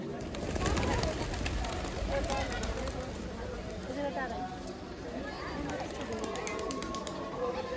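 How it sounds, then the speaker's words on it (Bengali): Pigeons coo and flutter close by at Chandragiri Hill, Kathmandu, a soft throaty burbling, while people talk nearby amid background bustle. "দেখুন পায়রাগুলো সব"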